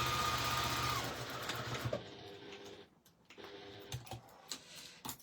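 A sewing machine stitches a placket zip in a fast, close, rhythmic whir that slows and stops midway, followed by scattered soft clicks and handling noises.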